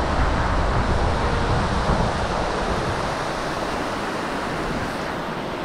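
Šútovský waterfall in Slovakia pours in a steady, dense roar of falling water, loud and close, a broadband wash that holds constant with no voices over it.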